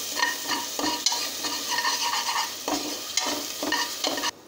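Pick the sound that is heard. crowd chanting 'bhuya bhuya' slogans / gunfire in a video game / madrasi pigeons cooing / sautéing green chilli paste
sautéing green chilli paste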